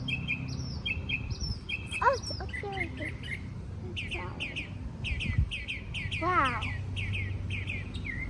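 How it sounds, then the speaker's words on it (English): A bird chirps outdoors in Monrovia, giving repeated high, quick chirps and a few sweeping calls over a steady low background hum, while people talk briefly. "did you hear that bird?"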